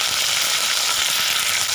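Garlic and chili frying in hot oil give a loud, dense, continuous sizzle, close up and unbroken, with no voices.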